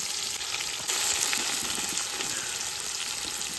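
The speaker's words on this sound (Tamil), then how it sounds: "இப்போ வெங்காயம், பச்சை மிளகாயும் சேர்த்துக்கோங்க" Onions and green chilies sizzling in hot oil with cardamom, cinnamon and cloves for a homemade chicken biryani, a steady close frying hiss with occasional stirring scrapes throughout.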